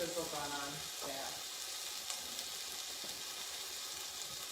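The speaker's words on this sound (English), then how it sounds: "we're getting a good sizzle going on there" A leg of lamb sears in a hot pan, giving a steady, broadband sizzle and crackle that holds evenly throughout, moderately close with no talk over it.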